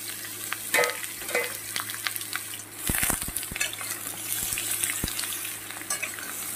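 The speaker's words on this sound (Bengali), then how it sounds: "এবার আমি পটলটা আলুটা দিয়ে দেবো, এটা একটু ভেজে নেব।" Pointed gourd and potato fry in oil in a wok, a steady sizzle punctuated by scraping and clinking stirring strokes, several sharp knocks clustered near the middle, with no talk.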